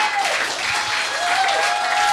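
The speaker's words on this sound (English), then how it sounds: "Give them a huge round of applause." A crowd applauds a band at a Western Australia music showcase, bright continuous clapping from a close audience with a faint sustained tone running beneath.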